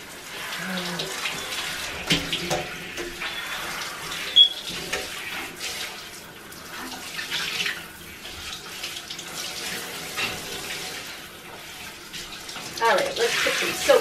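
Water runs steadily into a bathtub for two 8-week-old Great Dane puppies, a continuous splashing flow with a voice speaking over it and small bumps and splashes throughout.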